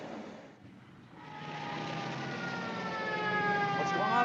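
Police car sirens wail in a 1950 film noir scene, rising steadily and growing louder as they approach, their wavering tones layered over a car's engine rumble with no talk.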